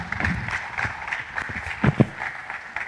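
A conference opening ceremony audience gives scattered, moderate applause, with uneven claps close by and a murmuring hall beneath.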